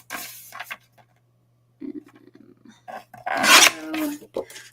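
Card background paper is trimmed to size with a paper trimmer, short rasping scrapes and a louder sliding cut near the end, close and intermittent, separated by brief silences over a faint hum.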